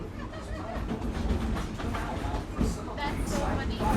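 A train at Disney's Animal Kingdom rides on its rails with a continuous rumble and rattling clickety-clack, heard from on board, with muffled voices in the background.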